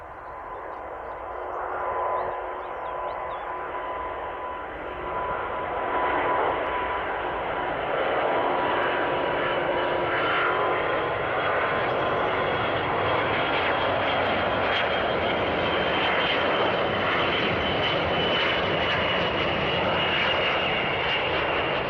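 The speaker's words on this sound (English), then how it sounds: "With only one working engine and half of its normal power, this Airbus A350 is having difficulty taking off." An Airbus A350 with only one working engine strains to take off, a continuous loud, broad jet roar that builds slightly and holds steady throughout, with no voices.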